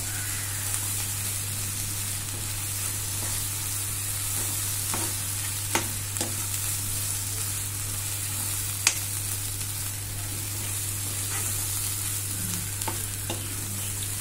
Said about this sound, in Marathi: आता हा तो छानपैकी परतवून घेऊया.